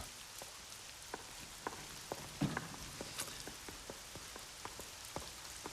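Steady rain pattering on a surface, with scattered sharper drips and taps standing out over a constant wash of noise.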